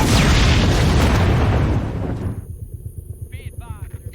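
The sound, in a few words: explosion at the border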